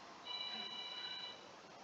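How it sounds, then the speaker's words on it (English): A telephone rings faintly for an incoming call, a thin, brief tone over quiet room noise. "There's a phone call"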